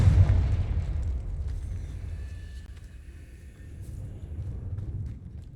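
A Confringo blasting-spell explosion in Hogwarts Legacy, a deep boom at the start that fades into a long, low rumble with a faint ringing tone trailing off.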